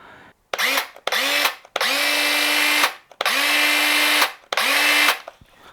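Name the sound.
Porter-Cable 20V cordless circular saw running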